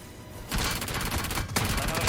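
Close gunfire in the BGMI battle royale game, with rapid dense automatic bursts that jump in loudness midway and run continuously to the end.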